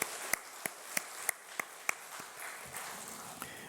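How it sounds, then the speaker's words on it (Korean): Sparse, sharp claps ring out one by one in a steady rhythm from a church congregation at a Sunday afternoon service, fading into softer scattered clapping, fairly faint, with no talking. "박수하겠습니다."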